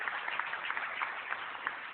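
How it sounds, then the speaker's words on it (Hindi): A crowd applauds to welcome the chief guest, Dr. Bashir Ahmad, with steady, moderately loud clapping from many hands. The recording sounds dull and muffled, with the treble cut off. "डॉक्टर बशीर अहमद साहब का जोरदार तालियों से इस्तकबाल कीजिए।"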